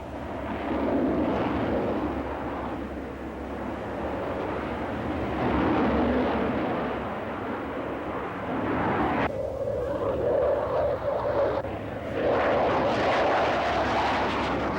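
A fighter jet, an F/A-18 Hornet, roars in a sustained, loud broadband rush that swells and recedes over several seconds, with a whining tone emerging near the end.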